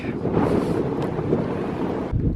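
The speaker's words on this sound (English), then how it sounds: "God, it is windy." Strong wind buffets the microphone in a steady roar, gusting throughout with no talking.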